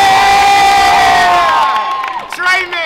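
Loud, close crowd cheering and whooping at a lively indoor tour event, high excited voices rising together in a burst that tapers off after about two seconds.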